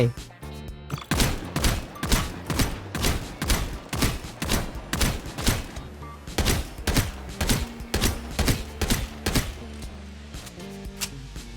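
Single gunshots from the video game Strinova crack out one at a time in a steady, rapid rhythm, each sharp, loud and close, nearly a dozen bursts with short gaps between them.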